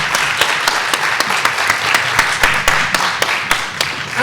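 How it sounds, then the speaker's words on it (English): Audience clapping for actors at a screenwriting showcase, a fairly loud, close round of applause with several sharp, distinct claps standing out at an uneven rhythm over the continuous patter of hands. "Can we have a nice round of applause for these actors?"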